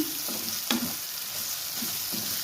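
Three eggs dropped into frying gravy for a black chana egg biryani, with a steady close hiss of sizzling oil and a few soft stirring scrapes, no voices.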